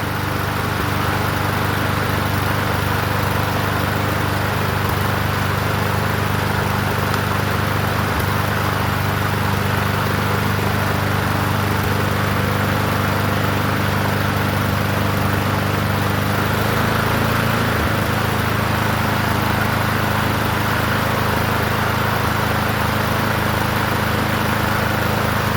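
A 21-inch Murray push lawn mower engine runs steadily and loudly close by, a constant droning hum with no change in speed and no voices.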